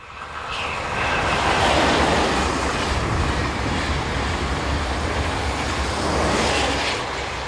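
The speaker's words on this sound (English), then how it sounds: "TGV set number 296 works the 706 from Lyon to Toulouse." A TGV high-speed train, set 296 working from Lyon to Toulouse, rushes past with a steady broadband roar that swells over several seconds and holds loud before easing slightly, with faint wheel rumble beneath.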